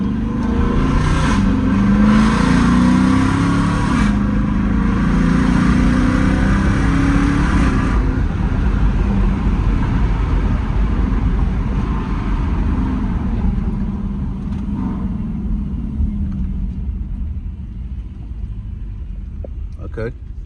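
A car with a 5.7L Hemi engine, eco mode off and paddle shifters in use, accelerates with a loud, continuous low engine rumble and rising revs. Speech sounds overlap it, and it eases slightly toward the end.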